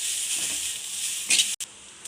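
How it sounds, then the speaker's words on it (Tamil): Coconut dry roasting in a pan on the stove, a steady bright hiss and sizzle with a brief stir-like rustle near the end, close and moderately loud. "இப்போ தேங்காய் ட்ரை ரோஸ்ட் பண்ணிக்கலாம்"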